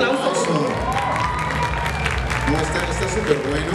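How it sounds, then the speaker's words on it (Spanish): Loud, close applause and cheering from a crowd at a cosplay event, continuous dense clapping with a few shouts mixed in. "Bueno, fuerte aplauso."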